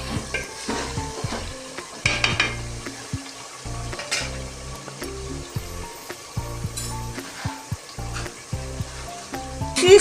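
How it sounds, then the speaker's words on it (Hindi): Chicken frying in a pan for a chicken palak curry, a steady sizzle punctuated by repeated stirring scrapes and metallic spoon knocks against the pan, close and clear. "अब हम इसमें अपना चिकन डाल रहे हैं। चिकन डाल के भी 2 से 3 मिनट तक हमने इसे भूनना है।"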